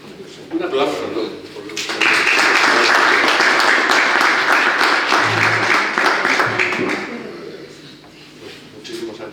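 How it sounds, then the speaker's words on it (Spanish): An audience at an honorary distinction ceremony for a police commissioner breaks into applause after brief talk. The clapping swells quickly, holds steady for several seconds, then tapers off as a voice resumes. "Un aplauso, ¿no?"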